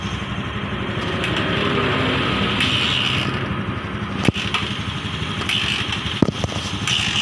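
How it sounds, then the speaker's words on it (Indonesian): A Honda Beat Pop motorcycle engine idles steadily at close range during a fault-code check, with an even high-pitched hum throughout and a couple of sharp clicks. No one speaks. "Mesin udah kita hidupkan."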